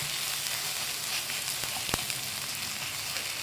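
Okra and potato stir-fry sizzling steadily in a pan, a constant close frying hiss with a few small pops and a brief stir scrape partway through, no talk.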